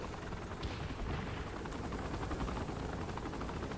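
A dense, fluttering helicopter rotor chop in Saints Row: The Third runs continuously throughout, moderately loud and steady, with a rapid pulsing rhythm and no voices.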